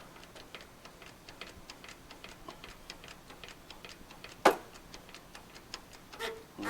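A manual hand pump on a Nifty Lift SD64 lift is worked to release its brakes, giving a quiet, regular clicking tick about every third of a second, with one sharper knock partway through.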